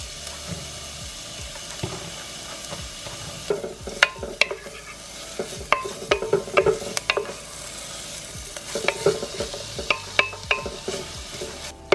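Chopped onions cook in melted butter in a soup pot, giving a low, steady sizzle. Intermittent spoon scrapes and clatters against the pot grow busier partway through, and no one speaks.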